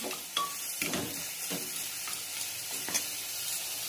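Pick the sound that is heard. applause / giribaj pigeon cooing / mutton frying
mutton frying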